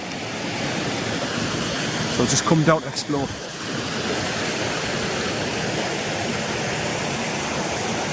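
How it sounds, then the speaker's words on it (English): Steady rushing water like a distant waterfall fills the whole clip at Swinner Gill near Crackpot Hall, with someone speaking briefly partway through. "there's some beautiful waterfalls higher up there, look."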